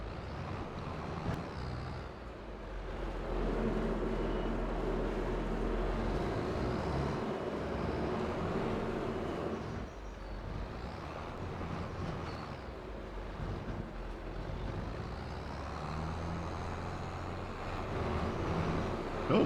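A large tractor engine in a forestry farming simulation game runs as a steady, fairly loud low rumble throughout, with broadband noise on top and a short dip in level partway through.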